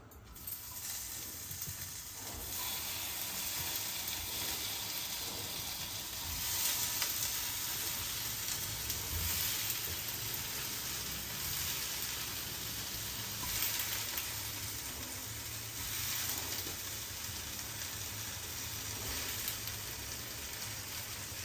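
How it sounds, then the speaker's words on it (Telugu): Tomatoes and green chillies frying in a pan for a tomato chutney, a steady close crackling sizzle that runs without pause, with occasional scraping stirs and no talk. "మళ్ళీ వేగుతాయి అనమాట టమాటోస్తో పాటు ఉడికి వేగుతాయి"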